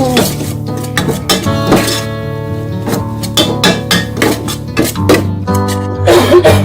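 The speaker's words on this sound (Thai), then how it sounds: "ผัดให้หอมเลยค่ะ มันจะมีกลิ่นพริกแกงโรยมานะคะ" Jungle curry paste stir-fried in a pan with a little water, metal utensil scraping and clinking against the pan in irregular close strokes, a tonal ringing hum beneath, with someone talking briefly.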